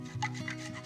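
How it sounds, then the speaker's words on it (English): Chocolate being rubbed over a grater for a milkshake, a short, quiet, close rasping scrape with a couple of strokes. "So I like to grate my chocolate, but you can finely chop it too."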